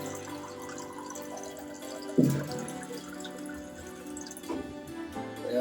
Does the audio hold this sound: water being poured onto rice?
yes